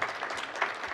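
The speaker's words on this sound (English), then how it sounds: "That's very nice applause." Audience at a public briefing on a waterfront development applauds in a short, dense burst of steady clapping from a seated crowd.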